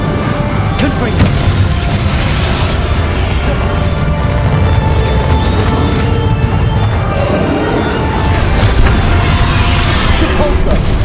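Confringo blasting spell explosions during a final boss fight in the video game Hogwarts Legacy, a dense, continuous barrage of loud booms and crashes layered over battle effects for the whole stretch.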